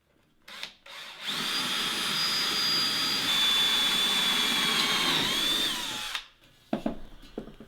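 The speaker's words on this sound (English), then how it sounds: "So I'm going to drill a hole. I think I'm using a 9/64 inch bit." A power drill with a 9/64 inch bit bores a hole through angle iron for metal cabinet trim, a loud steady high whine lasting about five seconds, its pitch sagging slightly near the end, with brief handling clatter before and after.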